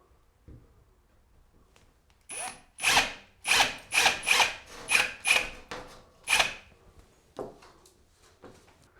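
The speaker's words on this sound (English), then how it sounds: "Drill the hole." A power drill whirs in a series of short, high-pitched bursts as it bores a hole into a wall for a wall anchor, with brief pauses between.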